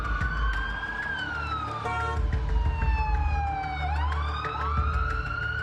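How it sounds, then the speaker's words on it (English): Police car siren wailing on Broadway in New York, loud and close, with rising and falling sweeps and a brief yelp burst partway through over the low rumble of the moving car. "hit the siren, throw the light up on the roof, and jet down Broadway"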